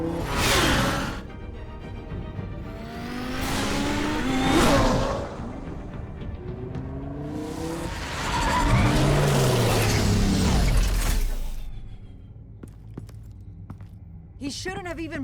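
A car in the Batman Telltale game driving and skidding, with repeated swelling engine roars and tire squeals rising and falling, punctuated by whooshes, while people talk over parts of it.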